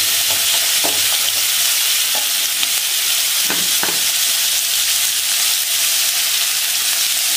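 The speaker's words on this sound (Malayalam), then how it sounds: "ഇനി നമുക്ക് ഇതിൻ്റെ ഒപ്പം ഒന്ന് ഇളക്കിയിട്ട് ഒരു സ്വല്പം ഉപ്പും കൂടെ ചേർത്ത് കൊടുത്താൽ അറിയാലോ." Sliced onions frying with salt in a pan for beef biryani, a loud constant sizzle and hiss with a few scraping knocks from stirring, no voices.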